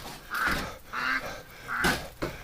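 Winter ducks kept in a straw-bedded shelter give three or four loud, nasal honking quacks in separate bursts, close by, with short pauses between each call.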